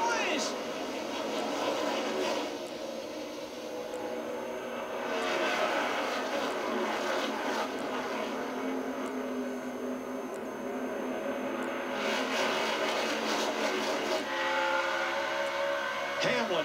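NASCAR stock cars roar off the start of the 2016 Folds of Honor QuikTrip 500 at Atlanta, a steady loud wash of engine noise that swells as the pack passes, under continuous race commentary.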